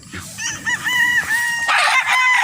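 A rooster on a farm in Roxas crows once, loud and close, a drawn-out harmonic call rising then sustained over about two seconds.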